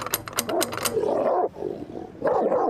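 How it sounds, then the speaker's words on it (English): A dog growling and barking up close in a loud, rough burst that breaks off briefly and then resumes, with sharp clicks at the start. "That's me dog."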